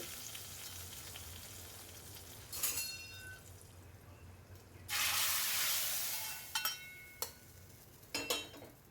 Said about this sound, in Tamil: கடுகு நல்லா பொரிஞ்சதுக்கு பிறகு நம்ம சாம்பாரில் வந்து சேர்த்துடலாங்க